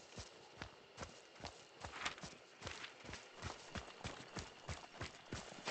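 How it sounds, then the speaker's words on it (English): A horse in the video game Hunt: Showdown clip-clops along in a steady, even rhythm of hoofbeats, fairly close and continuous throughout. "That stupid horse I keep hearing,"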